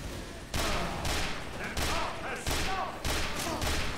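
Rapid bursts of video-game gunfire from Team Fortress 2, several loud repeated volleys in quick rhythm with brief gaps, near and dominant, with some game noise between shots.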